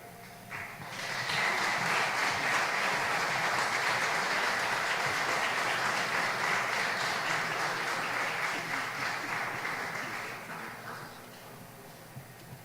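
An audience at an award ceremony for Belizean patriots breaks into sustained applause, a dense, even wash of many clapping hands that swells quickly, holds for several seconds, then tapers off.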